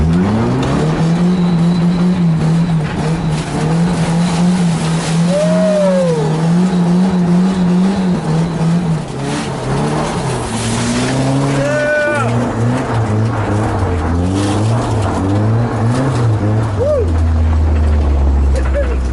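A Nissan S13 with a full exhaust revs loudly and continuously nearby, its pitch rising, falling and wavering as the clutch slips, then settling low at the end.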